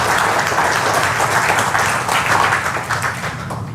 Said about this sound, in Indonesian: tepuk tangan lu buat platinum nanoparticles.